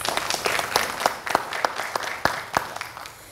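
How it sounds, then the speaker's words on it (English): Scattered applause from a conference audience honoring plenary track winners, a modest number of separate, fairly distinct claps heard for a few seconds, fairly quiet and spread out. "Another round of applause for them"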